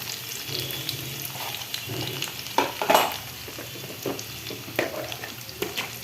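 Oil sizzles steadily in a pan as chickpeas are prepared, a soft continuous frying hiss with a few louder crackles and stirring scrapes, close by with no talking.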